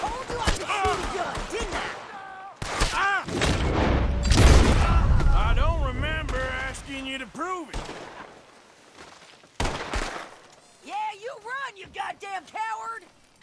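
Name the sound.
gunfire in video game Red Dead Redemption 2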